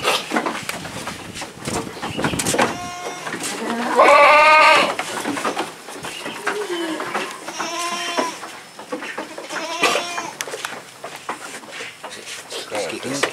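PE Kaligesing goats bleat repeatedly in a farm pen, several loud wavering calls rising over steady background noise, with people talking at times between the cries.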